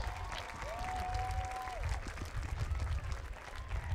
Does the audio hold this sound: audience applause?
yes